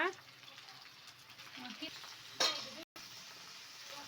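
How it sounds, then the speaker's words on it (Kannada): Okra frying in oil in an open pan, making a steady, fairly quiet sizzle. A brief brighter crackle breaks through near the middle, then a momentary dropout. "ನೋಡಿ ಈ ಥರ ಎಣ್ಣೆಯಲ್ಲೇ ಫ್ರೈ ಮಾಡ್ಕೊಬೇಕು"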